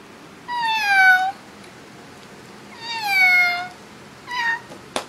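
A person imitating a cat, giving three drawn-out meows with a falling pitch, separated by pauses, moderately loud over a quiet room background; the last one is shorter.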